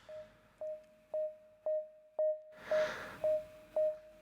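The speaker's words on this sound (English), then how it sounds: "pretty simple sine wave with an envelope" A simple sine-wave tone from an Agogo synth module shaped by an envelope, played through a low pass gate as eight evenly spaced, clean, steady pulses about half a second apart, heard alone.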